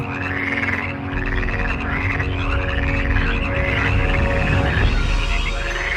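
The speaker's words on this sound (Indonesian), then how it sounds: "Katak-katak ada di mana-mana, dan mereka membuat bangsa Mesir menjadi kacau balau." A chorus of frogs croaking loudly and continuously in repeated rhythmic bursts, with no voices over them, accompanying a Bible story about the plague of frogs in Egypt.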